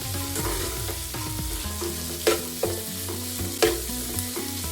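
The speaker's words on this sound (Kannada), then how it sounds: "ಸ್ವಲ್ಪ ಕಲರ್ ಚೇಂಜ್ ಆಗೋವರೆಗೂ ಫ್ರೈ ಮಾಡ್ಕೊಳ್ಳಿ" Two large chopped onions fry and sizzle in a pan for a tomato onion curry, a steady hiss broken by a few sharp stirring scrapes, close and fairly loud with no voice.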